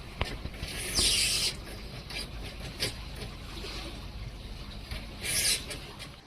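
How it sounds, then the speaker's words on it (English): A large yacht motors past with a low, steady drone over lapping water, with two bursts of hissing splash as it goes by. "Big muddy yacht on its way."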